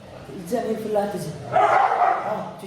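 A dog barks in a few short, fairly close bursts against a busy background, with people talking nearby.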